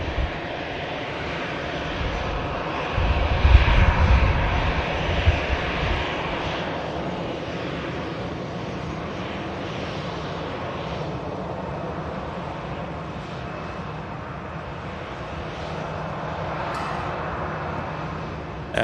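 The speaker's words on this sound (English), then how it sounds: "Airbus A350 super airliner lining up, take off, with Cathay Pacific going all the way to Hong Kong." A Cathay Pacific Airbus A350 takes off from Manchester Airport bound for Hong Kong, its engines building into a loud, broad roar that swells early and then holds as a steady, rumbling wash of jet noise with no voices.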